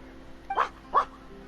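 A dog in Genshin Impact gives two short, clipped barks in quick succession, close and fairly soft against a quiet background.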